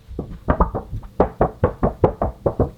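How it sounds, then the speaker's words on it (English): A thin plastic flexi disc wobbles and pops in a quick run of about a dozen dull, springy flaps, close up with no talking. "That's the noise of a flexi disc."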